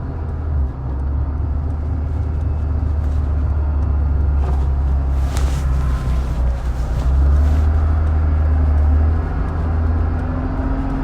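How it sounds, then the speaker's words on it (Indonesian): A 1995 Honda NSX-R rolls slowly through a U-turn, its engine giving a steady low rumble that swells briefly near the end, heard from inside the cabin with no talk. "Kita coba muter balik, radius putarnya seperti apa ya ini mobil."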